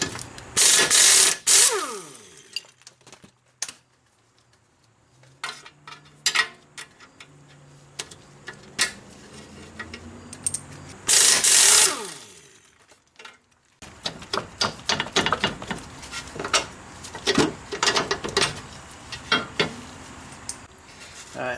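Sharp ratcheting clicks and metallic ticking come in bursts, working 19 mm strut bolts loose on a 2002 Mitsubishi Lancer during transmission removal. Loud clusters of ratchet strokes sit near the start and around the middle, and quieter handling clatter fills the gaps.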